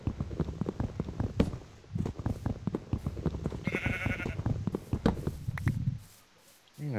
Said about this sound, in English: There's another sheep over here. Hello, sheep.